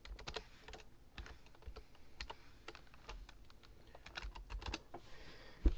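Typing on a computer keyboard while entering text for a watermark, a quiet, irregular stream of light key clicks with brief pauses between bursts and no talking.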